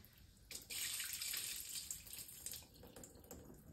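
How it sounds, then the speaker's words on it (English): Rice grains for dosa batter are rinsed under running water in a sink, a soft splashing and swishing that rises after a quiet start and then continues more unevenly. "we have to wash these grains till the water runs clear"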